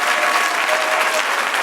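A church congregation applauds steadily and densely, a continuous wash of hand claps with no break.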